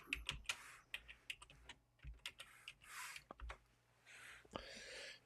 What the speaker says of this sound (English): Let's type in test